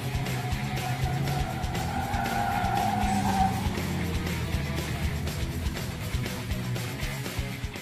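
A 2014 Chevy Corvette Stingray C7 lapping a skid pad, tires squealing in a sustained whine over a steady engine drone, the squeal fading after a few seconds while the motor keeps running.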